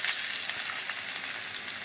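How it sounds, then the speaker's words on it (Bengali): Dried red chillies, nigella seeds, onion, green chilli and crushed garlic frying in hot oil make a loud, continuous sizzle with fine crackle throughout. No voices. "কাঁচা শুকনো লঙ্কা আর কালো জিরে সম্বার দিয়ে দিলাম, সাথে পেঁয়াজ, কাঁচা লঙ্কা, রসুন থেতো করা, এটাও দিয়ে দিলাম।"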